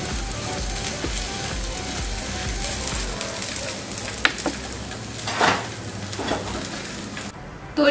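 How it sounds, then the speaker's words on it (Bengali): Aloo paratha frying in a pan, a continuous close sizzle with occasional scrape and clink of a spatula against the pan, the crackle swelling briefly near the end. "এভাবে এক এক করে আমি সবগুলো পরোটা ভেজে নিব।"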